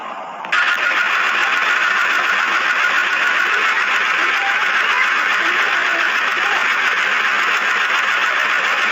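A sewing machine stitching the second side of a bed sheet, running in one continuous steady whir after a brief start, loud and close with no talking.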